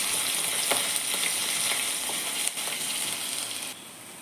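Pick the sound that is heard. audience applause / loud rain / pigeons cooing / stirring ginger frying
stirring ginger frying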